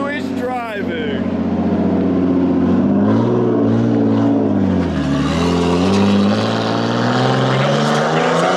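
Engine of a rough Nissan R32 Skyline driving for the first time after four years off the road, a loud, close drone that swells and dips in pitch while people talk nearby.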